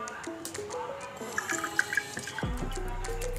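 Sodium hydroxide solution poured into a bottle, with small trickling and dripping splashes that give way to a steady running pour near the end, close and quiet.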